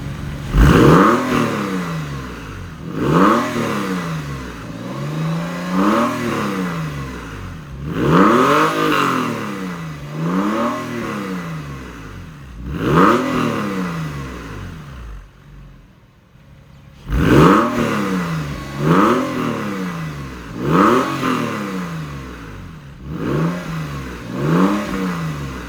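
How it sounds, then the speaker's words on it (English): A 1999 Porsche 996's flat-six, fitted with a Gundo bypass exhaust, is revved repeatedly in rising-and-falling blips, each swelling and dropping back, loud and close, with one short pause midway. "it gives the car's flat six engine a deeper, louder, more aggressive exhaust note"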